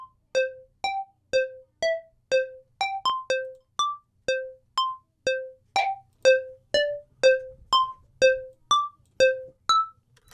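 Synth bell with a chorus effect plays a melody of short, struck, evenly spaced notes, each ringing briefly before decaying, bright and clear with no voices over it.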